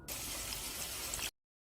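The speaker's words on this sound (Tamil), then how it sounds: "கொஞ்சமாக தண்ணி சேர்த்துக்கணும்" Water poured in a small steady stream into ground garlic, black pepper and cumin for a Chettinad vegetarian dish, a soft, even gushing trickle that stops abruptly, leaving silence.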